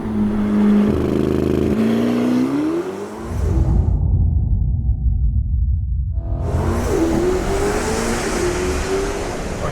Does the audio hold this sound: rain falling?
no